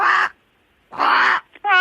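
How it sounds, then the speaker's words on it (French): Loud crow caws played from a tape recorder and heard over a phone line, two harsh bursts separated by a pause, then a short squeak and a tonal buzzing call. "Ça, c'est la voix d'un corbeau."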